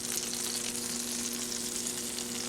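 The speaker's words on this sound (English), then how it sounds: "Sizzle, sizzle." Steady, close sizzling of a corned beef stromboli frying in a hot pan, a continuous crackling hiss with no voices.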